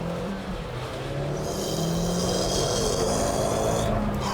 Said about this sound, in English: sucking sound from the back of this car. Whether it's the turbocharger or the exhaust system